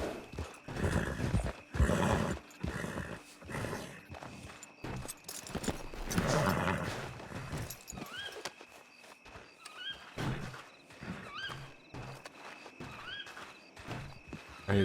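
Horse hooves clip-clopping on the ground in the Red Dead Redemption 2 roleplay game world, a steady run of footfalls with thuds and a whinny, heard alone without talk and fairly close.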